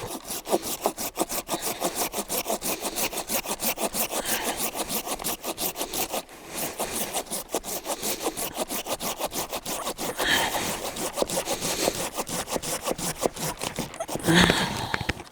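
A professional pruning hand saw cuts an old apple tree branch at a slight angle, rapid rhythmic rasping strokes running steadily up close, with a brief pause midway and a crack near the end.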